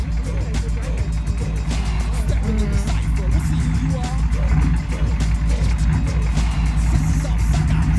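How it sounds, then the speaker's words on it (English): The engine of a K5 Blazer strains steadily as its wheels spin during an off-road recovery, a loud continuous drone with a low rumble and gravelly spatter, while people talk over it. "Those two wheels are spinning."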